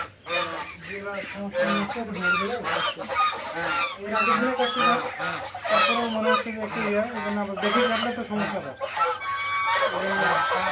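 Geese and other fowl on an integrated farm that also keeps layer hens and quail honk loudly and repeatedly, overlapping calls filling the yard at close range.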